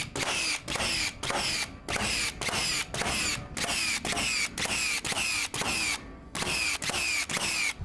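Battery-powered nail gun set to bump fire mode, driving nails in a fast regular run of about a dozen sharp mechanical shots with brief pauses between them, close and loud.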